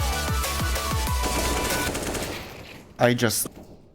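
Rapid gunfire in a Counter-Strike match, a burst of several sharp shots in quick succession, followed by a fading reverberant tail and a short distant-sounding crack.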